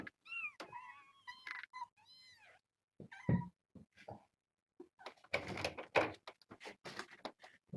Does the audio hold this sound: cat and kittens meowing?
yes